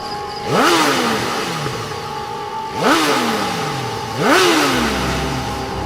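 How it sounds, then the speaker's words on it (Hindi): A motorcycle engine revs three times, each surge rising sharply in pitch then falling away, spaced a couple of seconds apart over a steady idle. "बाइक की आवाज।"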